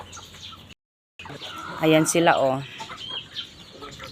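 Backyard chickens, some of them small young birds, cluck in short bursts at close range, mixed with a voice speaking over them.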